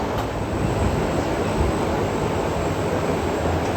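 New roller coaster train at Six Flags Fiesta Texas, a loud, continuous rumble of wheels rolling on track with broad steady noise and no talking.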